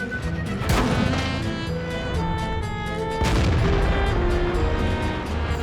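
A tank cannon in the video game World of Tanks fires two heavy, booming shots about two and a half seconds apart, each ringing out loud and close over a steady musical backdrop.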